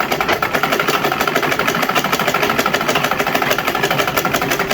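A sewing machine stitches fabric with a fast, steady mechanical chatter that stays loud and even throughout, with no talking.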